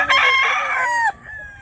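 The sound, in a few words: chicken (rooster) crowing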